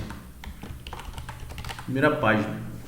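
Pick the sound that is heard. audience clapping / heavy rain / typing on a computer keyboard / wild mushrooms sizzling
typing on a computer keyboard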